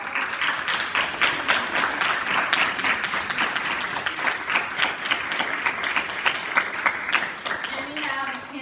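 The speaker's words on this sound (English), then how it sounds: "So could all the speakers please stand up and we'll give your round of applause." An audience at a youth forum applauds its speakers with a sustained round of clapping, dense and even from start to finish, filling the room with lively, close-up hand claps.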